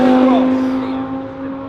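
A Lamborghini Huracan pulls away at the start of a track lap, a loud, sustained engine tone with a rising pitch sweep close by, fading slightly toward the end.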